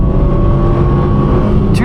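Car engine held at full power in cruise on a country lane, a steady loud droning hum with little change in pitch, a voice briefly breaking in at the end.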